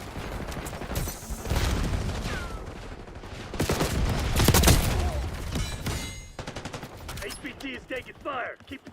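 Rapid automatic gunfire and scattered shots ring out in the Black Ops 6 video game, dense bursts and thuds filling several seconds, loud and close, with faint voices in the mix.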